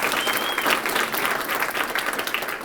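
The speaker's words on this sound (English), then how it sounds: "go ahead and give him a round of applause." A city audience at a State of the City address claps in a sustained, dense round of applause, loud and close, filling the whole stretch.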